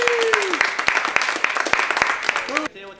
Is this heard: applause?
yes